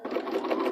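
A sewing machine runs in one short, quick burst while stitching a romper, a soft, close buzzing whir with no voices.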